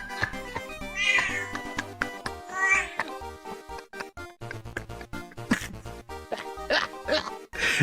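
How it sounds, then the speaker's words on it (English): Cat meows repeat in a steady series of short, clear calls over a music backing, with a few louder yowls toward the end. "That's a perfect meow."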